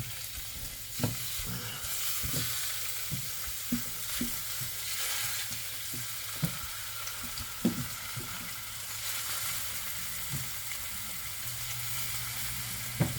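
Beef braciole browning in olive oil over medium-high heat, a steady sizzle and fry underneath repeated thuds and clatters as the rolls are placed and shifted in the pan.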